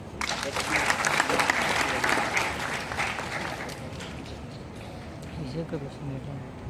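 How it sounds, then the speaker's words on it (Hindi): An audience at a poetry gathering for Teachers' Day applauds loudly, the clapping swelling at first and then gradually thinning out, with voices mixed in. "नेहा दीदी के लिए जोरदार तालियां आप लोग बजा दीजिए।"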